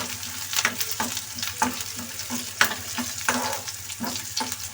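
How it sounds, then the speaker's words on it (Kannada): Ginger garlic paste frying in a pan while making egg bhurji, a steady close sizzle broken by repeated scraping stirs of a spoon against the pan, with no talking. "ಚೆನ್ನಾಗಿ ಫ್ರೈ ಆಗ್ತಾಯಿದೆ."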